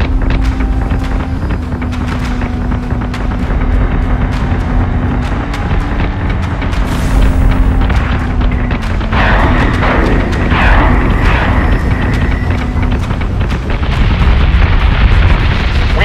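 Starship cannon fire and explosions in the space battle game Battlestar Galactica Deadlock, a continuous loud wall of deep booming blasts and rumbling with sustained tonal drones, no talking.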